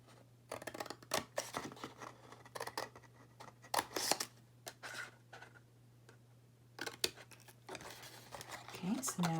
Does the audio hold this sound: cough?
no